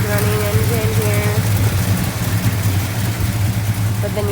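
A 1970 Dodge Super Bee idles smoothly with the hood up, a steady, even low rumble held close and loud while someone talks over it.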